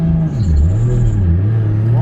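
Deep, loud engine note from a 700+ horsepower Lexus SC400 with a JZ engine swap, revving up and down in a wavering drone that dips and climbs steadily throughout, close by.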